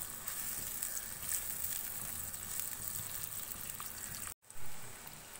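Finely chopped onion fries in hot oil with a steady, bright hiss that keeps up close by, cut by a brief silent break near the end before the sizzle comes back.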